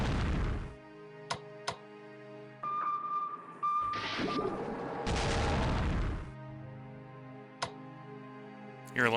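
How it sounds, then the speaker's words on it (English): Torpedoes hitting a dreadnought in the WWI strategy game Strategic Command WWI make a few muffled booms and rumbling bursts over a tonal musical backdrop, with sharp clicks scattered between them. "Torpedoes strike the Dreadnought."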